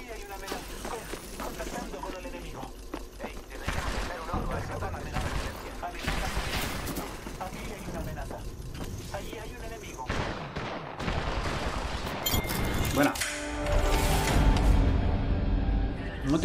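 Dense, sustained gunfire and explosive blasts from the video game Apex, with occasional voices underneath, growing louder and heavier toward the end.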